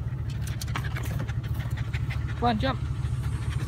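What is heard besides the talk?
dog panting in a truck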